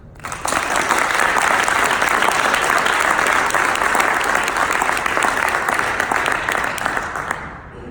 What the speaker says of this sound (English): I just ask that you give a round of applause for all 3 of them